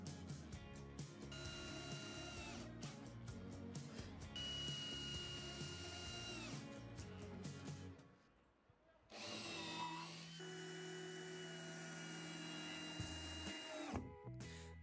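A power drill drives screws into the wooden roof beams of a Karibu Hytti 3 garden sauna, in several long whirring bursts with short pauses and a brief lull partway through, close and loud with no talk.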